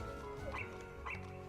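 A puppy in Kingdom Hearts gives two short, high yips about half a second apart, fairly faint over game music.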